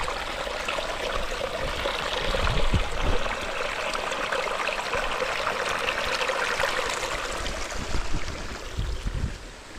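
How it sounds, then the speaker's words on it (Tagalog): Stream water flows steadily in an outdoor setting, a continuous broadband rush with some splashing, moderately close and alone without voices. "Sapa."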